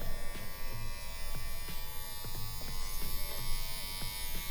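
Electric hair clippers fitted with a number 1 guard, fully closed, buzzing steadily while cutting curly men's hair, with a rhythm of short passes that thicken the hum, close by.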